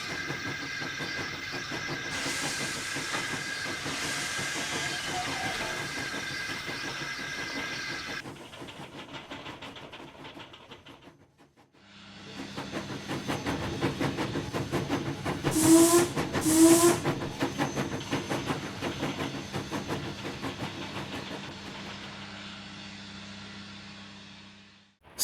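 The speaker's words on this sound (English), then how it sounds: "Spark flew down the main line as his firebox roared" Steam locomotive running down the main line, a loud steady hiss of steam and rolling clatter that drops out briefly, then returns with a short whistle blast over the continuous roar.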